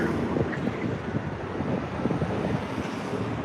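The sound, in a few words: wind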